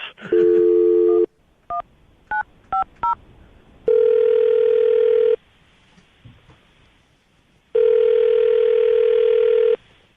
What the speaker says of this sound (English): I'm going to dial the phone number and let you make your Awkward Tuesday phone call